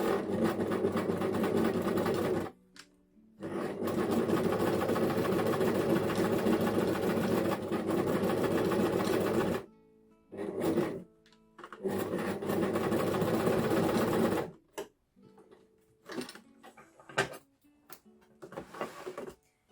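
A sewing machine runs a long straight easing stitch on stretch knit fabric in several steady bursts, the longest about six seconds, separated by short pauses and a few quick stop-start runs near the end.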